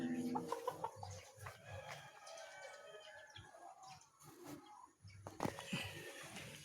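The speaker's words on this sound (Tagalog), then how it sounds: "Yung ating mga manok, ito po," Domestic chickens, hens and a rooster, cluck and squawk close by in a rural yard, with a dense layer of overlapping calls and occasional crowing running continuously throughout.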